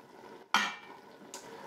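Tomato puree stirred into a wine kebab stew in a multicooker pot: two short scraping strokes of a utensil against the pot over a faint simmering background, the first louder than the second.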